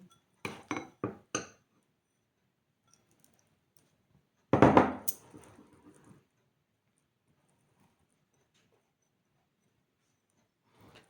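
A spoon mixes petit suisse, banana and egg in a bowl: four quick clinks against the bowl, then a longer scraping, stirring burst after a pause, with quiet gaps around them.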